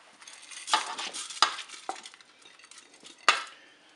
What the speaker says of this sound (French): je vais mettre mon riz dans la cuve